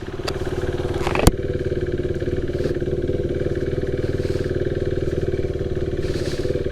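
A KTM RC 390 motorcycle riding along a ghat road, its single-cylinder engine holding a steady pulsing drone close up, with a sharp clack near the start and faint wind noise.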